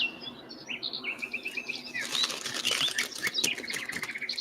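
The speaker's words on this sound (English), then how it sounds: "Black Sparrow." A black sparrow chirps in a quick series of high, bright calls along with soft fluttering wingbeats, close by and fairly quiet.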